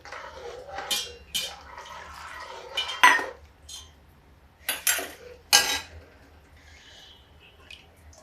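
A spoon stirs moong dal kadhi with yogurt in a metal pot, giving several separate scraping clinks against the pot and wet sloshing between them. The sounds are close and moderately loud, with no talking.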